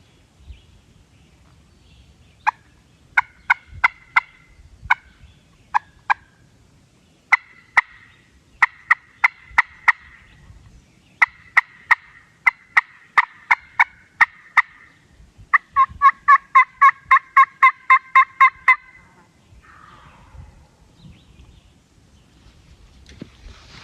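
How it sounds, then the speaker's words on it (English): Several wild turkey gobblers gobble in the Kentucky Appalachians, their rattling calls coming in repeated bursts, often in quick succession, over a quiet outdoor background with no talk. "I got a couple different gobblers right here gobbling."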